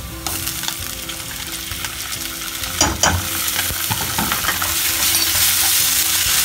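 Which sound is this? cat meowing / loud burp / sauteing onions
sauteing onions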